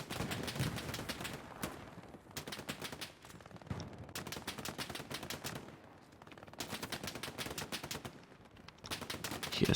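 Rapid bursts of automatic gunfire and single shots crackle through a competitive multiplayer shooter battle, dense volleys separated by brief lulls, loud and continuous without speech.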